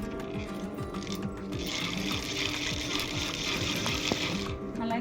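A sewing machine stitches a jute bag in quick rapid bursts, its needle rattling in a steady mechanical rhythm, fairly close and at moderate loudness with a brief pause near the end.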